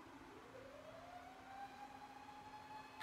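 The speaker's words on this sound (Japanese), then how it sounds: "やばい、パトカー来た。" A police car siren wails in the distance as a steady, drawn-out tone that slowly rises over faint background hum, with no talking.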